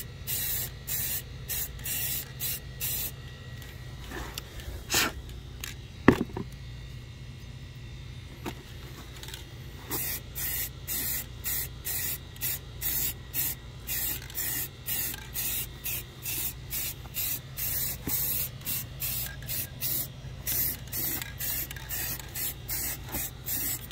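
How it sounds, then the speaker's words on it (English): Gray spray paint hissing from an aerosol can onto golf cart wheels in short repeated bursts, close and steady over a low background hum. "So let's get these wheels sprayed."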